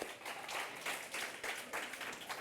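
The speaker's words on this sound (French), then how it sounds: "Applaudissez pour vous" High-school audience at a quiz-style trophy event clapping in uneven surges, a moderate patter that rises and falls several times in a short stretch.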